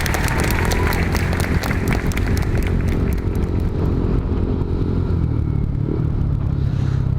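A remapped motorcycle engine revving loudly and continuously close by at a tuning shop in Imus, a dense rough roar with rattling pulses throughout.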